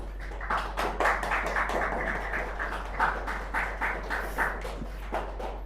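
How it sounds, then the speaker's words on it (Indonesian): An audience applauds at an Indonesian lecture session, a steady patter of hand claps at moderate loudness lasting several seconds with no talking over it. "Tepuk tangan untuk Mbak Mayang dari teman-teman semuanya."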